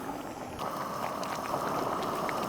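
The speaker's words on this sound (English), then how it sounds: "Wow, we're already boiling." Water boils on an MSR WindBurner camp stove, a close, steady bubbling roar with a soft burner hiss, quiet at first and swelling slightly after half a second, with no talking.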